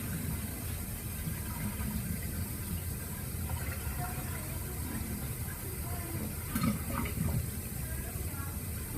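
Water running steadily into an aquaponics aquarium, a continuous low gurgling rush with a few brief splashes, close and moderately loud.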